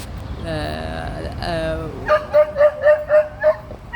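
A small dog whines in long rising yelps, then lets out a quick series of sharp, repeated yips and barks close by.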